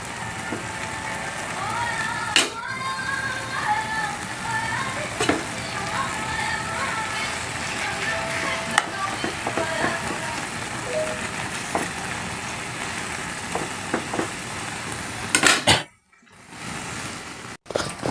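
Bitter gourd (ampalaya) sautés in a hot pan with a steady sizzle and occasional stirring clatter, ending in a brief near-silent gap before the frying resumes.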